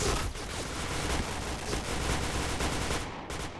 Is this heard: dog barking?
no